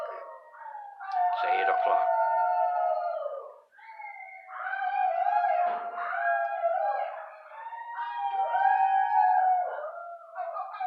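Long, wavering howls rise and fall outdoors in the evening, three sustained cries in a row with brief pauses between them. A voice speaks briefly in the middle.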